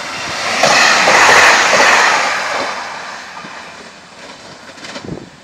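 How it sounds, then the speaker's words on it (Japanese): The Nanpu No. 12 limited express passes Konzoji Station at speed, a loud rushing whoosh that swells and then fades, with rail clatter trailing off at the end. "南風12号が通過です。"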